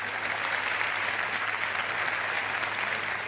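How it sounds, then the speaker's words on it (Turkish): A television studio audience claps steadily for a guest on a Turkish comedy talk show, producing dense, even applause that holds at a constant level throughout with no talk over it. "Alkışlar Furkan Ergül'e gelsin."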